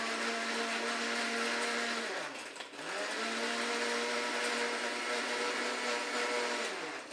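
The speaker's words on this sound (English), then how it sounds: "that's the reason a lot of bars don't have blenders, because you have to stop the conversation" A bar blender whirs loudly and continuously, its motor pitch sagging and dipping briefly mid-run before climbing back to a steady high drone.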